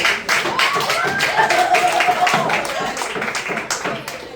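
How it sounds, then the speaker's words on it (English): Students in a classroom in St Vincent and the Grenadines clap together, the claps close and uneven, with a voice talking over part of it. "Let's clap"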